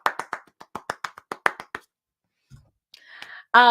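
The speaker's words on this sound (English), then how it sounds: "Everybody clap for Norm." About a dozen distinct hand claps in a quick uneven burst on an evening chat show, close and separate rather than a crowd, followed by a brief pause and then a voice starting to speak.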